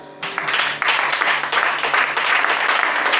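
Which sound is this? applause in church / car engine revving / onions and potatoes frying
applause in church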